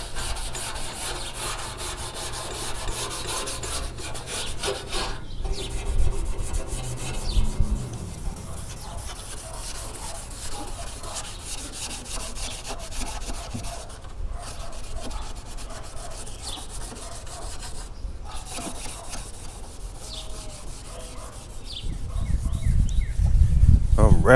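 Steady, close scrubbing of a Scotch-Brite pad scuffing a car body panel, partly wet, before a pearl basecoat is painted on. The rubbing continues throughout under intermittent talking.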